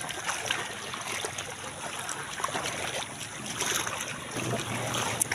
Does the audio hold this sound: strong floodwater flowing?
yes